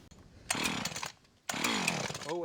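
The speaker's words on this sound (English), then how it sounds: "So I think this chainsaw is from like 2008." A roughly 2008 chainsaw revs in two loud, close bursts, each engine whine rising sharply then holding before it drops away.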